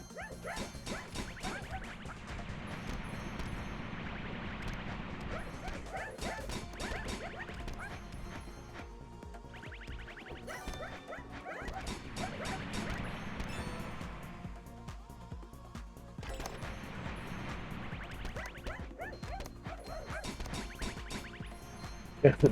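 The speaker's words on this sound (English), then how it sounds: "We did more dog noises." Dog attack sound effects from the video game Elemental Survivors repeat rapidly: barks, yips and whimpers mixed with crashing hits, dense and continuous over a low background, with waves of activity rising and easing.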